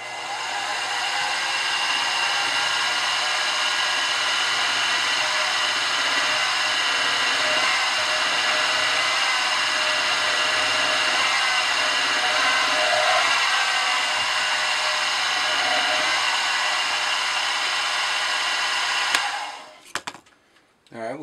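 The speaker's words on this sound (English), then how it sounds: "finish drilling that out" A drill bores steadily into a holder block on a machining setup, a continuous whirring drone with a bright metallic edge that holds evenly for nearly twenty seconds, then winds down and stops.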